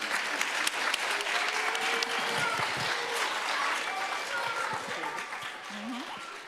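At a school citizenship challenge event, an audience breaks into sustained applause with scattered cheering and voices mixed in, holding fairly steady before easing slightly at the end.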